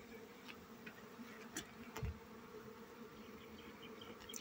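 Bees buzzing at a beekeeping apiary, a continuous close droning hum with a few sharper knocks and rustles over it.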